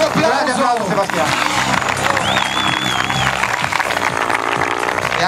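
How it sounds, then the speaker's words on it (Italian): A beach crowd at a Rimini heli smackdown claps and cheers for an RC helicopter pilot while an announcer talks loudly over the applause and a whining rotor. "Un grande applauso. Grande applauso Sebastiano."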